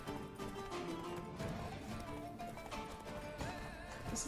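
Horse hooves clip-clopping at a gallop in The Witcher 3 video game, a steady fast rhythm mixed with game music and ambience, with a brief whinny.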